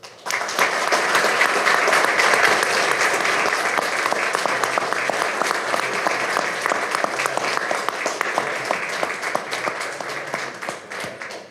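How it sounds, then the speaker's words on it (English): Audience applause fills a Greer, South Carolina city council meeting, a dense, steady wash of many hands clapping for about eleven seconds, easing slightly toward the end. "Join me in a round of applause."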